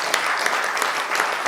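Steady applause from a crowd, dense clapping that fills the whole moment without a break.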